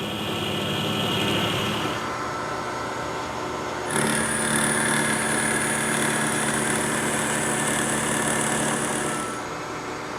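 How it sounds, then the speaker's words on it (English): A lathe fitted with a 5C collet works a boring bar into a half-inch drilled centre hole, a steady machine whine with a tonal hum that shifts pitch and grows brighter partway through as the cut begins, with no talking. "I'm just going to see if I can open that up enough to get this boring bar in"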